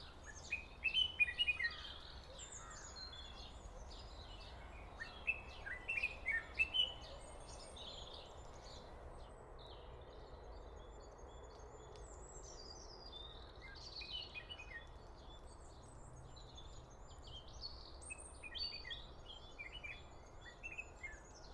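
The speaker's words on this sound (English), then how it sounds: "so that it will sound like bird sound coming from a distance" Bird calls processed to sound distant: faint, thin chirps and tweets scatter in short irregular bursts over a soft steady hiss, with a denser cluster early on and more at the end.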